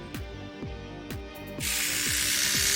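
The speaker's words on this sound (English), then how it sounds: "It's just it's for facial hair or for nose hair. It's a little trimmer." A small facial and nose hair trimmer runs close by with a steady buzzing hum and repeated rhythmic mechanical pulses, then a brighter, hissier whir takes over near the end, with no talk.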